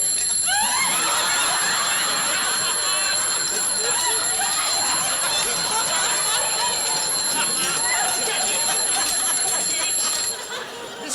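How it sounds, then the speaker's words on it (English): An alarm rings from a gold hunter pocket watch, a bright, rapid, continuous metallic trill lasting several seconds before cutting off, heard up close with voices chattering faintly beneath it. "Sounds like an alarm clock. Ah, it must be my gold hunter."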